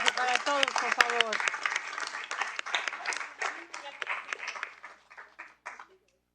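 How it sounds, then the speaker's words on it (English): An audience at a school district board meeting applauds students, crisp clapping that starts full and close, then thins and fades to silence, with a voice speaking briefly at the start. "Round of applause for all of our students reclassified."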